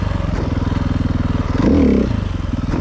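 A KTM EXC 450 enduro motorcycle creeps along at very slow speed, its single-cylinder engine thumping in a steady, close, loud rhythm, with a brief blip of throttle in the middle before it settles back to the low putter.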